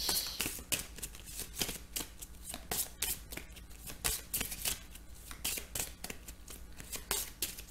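Tarot cards are shuffled and drawn in a quiet room, producing a steady run of crisp, close riffling flutters and sharp snaps with no voices.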